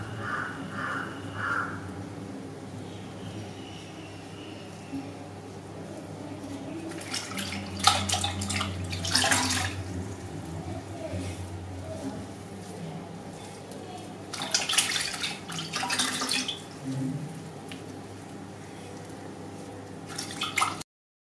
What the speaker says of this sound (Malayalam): ഇപ്പൊ ഞാനിവിടെ പാത്രത്തിൽ കുറച്ച് വെള്ളം എടുത്തിട്ടുണ്ട്.